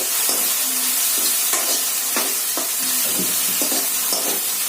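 Chili powder hitting hot oil in a pan for an Indian dal tadka, giving a steady bright sizzle with light stirring scrapes, close and continuous.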